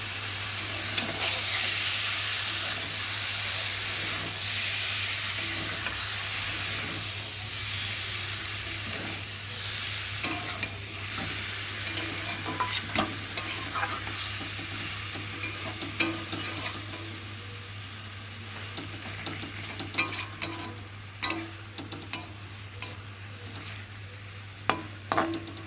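Fish and chopped tomato sautéing in a pan for a Bengali lote fish chorchori, a long, close, steady sizzle with frequent clinks and scrapes of a spatula stirring that grow sharper toward the end.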